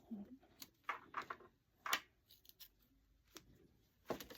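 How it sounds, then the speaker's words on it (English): Scissors trimming loose threads on a handmade cowboy ornament, a few soft, quiet snips and clicks spread across the moment with faint handling noise between them. "Now you got to do some trimming"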